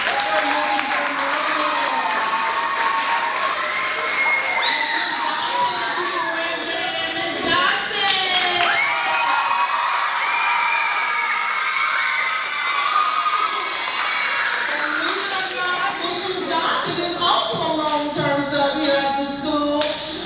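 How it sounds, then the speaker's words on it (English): Sustained applause and cheering from an audience at a school ceremony honouring a teacher, dense and continuous for the full stretch, with voices and music-like tones mixed into the crowd noise. "let's give a huge round of applause"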